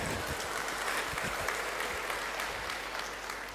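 An audience at a Kham Ku anniversary concert in Panglong claps continuously, a soft, fairly distant wash of many hands with an even, unbroken texture and a few slightly sharper claps rising out of it.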